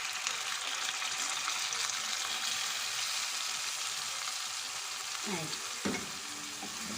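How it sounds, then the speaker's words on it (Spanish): White wine hits a pan of garlic chicken wings frying in hot oil, adding to a steady, bright sizzle with brief bubbling bursts; a voice speaks a word near the end. "Y ahora es el momento de agregar nuestro vino blanco."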